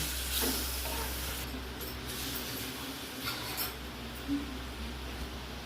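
Shrimp with chana dal and sour yogurt sizzle in a pan while a spoon stirs, a steady frying hiss with occasional scrapes and light clinks, close up.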